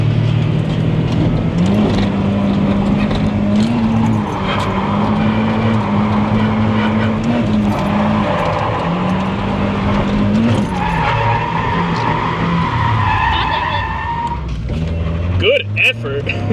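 Blue 180 drift car with a built SR engine sliding around a track on practice day, sustained loud tyre skid and engine drone rising and falling, close by, with people talking over it.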